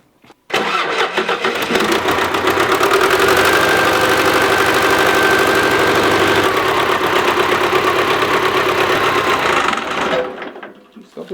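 An old tractor engine, revived after sitting unused for 30 years, starts up and runs steadily for about ten seconds, a loud continuous mid-pitched chug close by, then cuts off.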